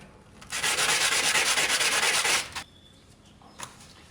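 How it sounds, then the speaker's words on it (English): Sandpaper scrubbed briskly over a shiny plastic motorcycle part to roughen it for paint, a steady close rasping burst lasting about two seconds, then quiet with a faint tap. "what I'm going to do is sand the surface, just roughen it up a bit, like this, to help the paint adhere"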